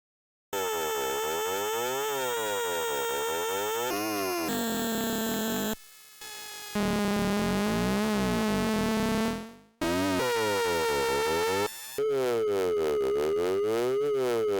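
Synthesizer hard sync with the carrier wave's pitch being swept, producing harsh, buzzy tones whose harmonics zigzag up and down, loud and continuous in separate sections broken by short gaps.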